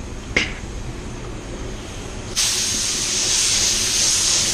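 PPG Waterbase paint is sprayed as a light coat onto tail lights, a brief click followed by a steady, close airy hiss from the spray gun that holds on to the end.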